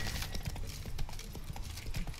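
Horse hooves galloping in the video game Witcher 3, a rapid, uneven clip-clop of hoofbeats with rumbling low thuds, steady and fairly close.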